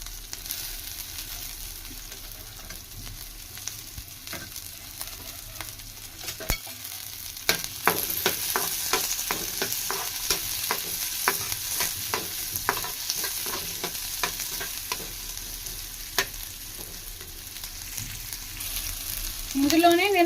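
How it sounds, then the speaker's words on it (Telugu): Onion and garlic cloves sizzle and fry steadily in hot oil while being stirred, with scraping spoon taps and a continuous bright crackle throughout, for a village-style cluster bean stir-fry. "ఈ ఆయిల్ బాగా హీట్ అయిన తర్వాత ఇందులో ఆనియన్ వేసుకోవాలా."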